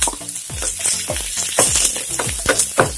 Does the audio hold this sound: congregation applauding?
no